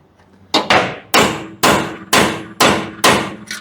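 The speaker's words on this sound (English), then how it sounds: "let's just whoop on it with a hammer and a punch" Seven sharp metallic hammer strikes on a punch against a broken lug stud ring out at a steady, deliberate pace, each clang decaying briefly before the next blow.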